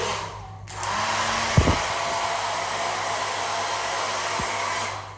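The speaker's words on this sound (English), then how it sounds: "Hairdryer." A hotel room hair dryer whirs steadily and loudly for several seconds, a continuous broadband airflow roar with a brief click as it starts.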